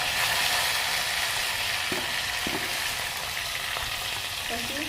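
Garlic, pepper and tomatoes frying in a pan for dal dhokla give a steady, loud sizzle throughout, with a few soft clinks of stirring near the end.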